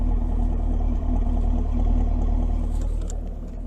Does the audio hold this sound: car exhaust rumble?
yes